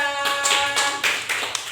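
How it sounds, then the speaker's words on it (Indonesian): Classroom clapping for a student group presenting animal shadow puppets: about five sharp, rhythmic hand claps in quick succession over a faint steady tone. "kasih tepuk tangan kelompok 2"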